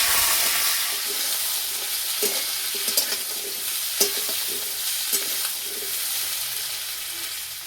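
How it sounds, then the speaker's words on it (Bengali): Sliced cucumber hits hot oil with bay leaf and Bengali five-spice, giving a steady hiss and crackle of frying with a few soft stirring clunks scattered through. "তেলে দেবো 5 ফোড়ন, তেজপাতা, কেটে রাখা শসা দেব"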